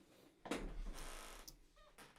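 A cat meows indoors, a drawn-out close vocal call with a brief rustle before it and a shorter sound near the end.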